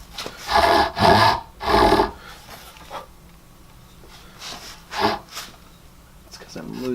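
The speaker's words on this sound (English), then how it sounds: "I'm just going to chisel that out." Chisel working out waste wood between hand-cut dovetails, giving three loud rasping, scraping strokes near the start, then quieter taps and scrapes with gaps, and a few more strokes toward the end.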